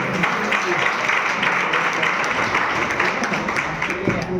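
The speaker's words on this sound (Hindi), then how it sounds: "इस चाय के लिए बहुत ताली होना चाहिए" A seated audience applauds an herbal tea blended with a 'king of herbs' at a DXN business talk in India, with dense, steady clapping filling the whole stretch at moderate loudness.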